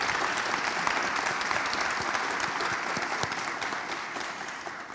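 A graduation audience at the Gwinnett County Citizens Academy applauds department directors, a dense, steady wash of clapping that holds evenly and tapers slightly at the end.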